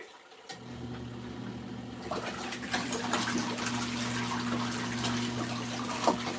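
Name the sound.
water splashing in LG ThinQ MEGA washer, deep wash cycle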